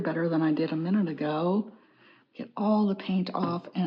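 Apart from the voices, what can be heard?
None of the usual background noises is heard.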